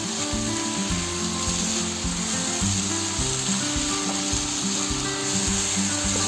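Tomatoes fry and are mixed in a pan, giving a loud, continuous sizzle with a rubbing stir running beneath it the whole time, close up and with no talking.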